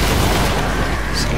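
Gunfire from a newly bought weapon in the video game Destiny, a loud continuous wash of rapid shots and booms sprayed in all directions with no pauses.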